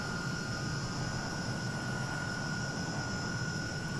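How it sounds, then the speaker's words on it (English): Rolls-Royce Avon jet engine of a Hawker Hunter in Microsoft Flight Simulator, a loud continuous whine over a gravelly low roar, holding steady and close for several seconds with no talking. "howl build up to a shriek with that low gravelly undertone."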